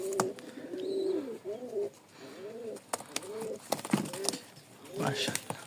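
Satin pigeons coo in a loft, a series of close, repeated throaty coos rising and falling in short phrases with small rustles between.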